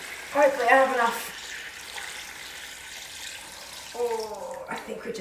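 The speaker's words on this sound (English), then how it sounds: "Okay, brine going in." Salt brine (ten parts water to one part salt) pours and splashes steadily into a tub of olives, with brief bursts of speech at the start and near the end.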